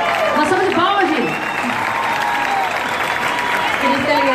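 A concert crowd at a show in Ciudad del Este claps for the dancers, loud continuous applause with cheering voices and whoops rising over it.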